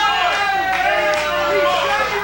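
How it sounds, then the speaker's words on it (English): A wrestling arena crowd at a CWF Mid-Atlantic show murmurs and grumbles in a steady, restless babble after a chain shot to the head, with a commentator's voice running over the noise. "And this crowd is none too happy about it."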